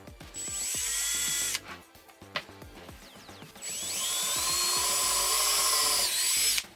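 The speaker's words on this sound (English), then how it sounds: "we just need to get a pilot hole started so that we know where it's going to mount, and then we'll drill it" Power drill boring a pilot hole to mount a part on an Arrma Talion XL RC car, two sustained high whining runs separated by short bursts and clicks, close and loud with no talk.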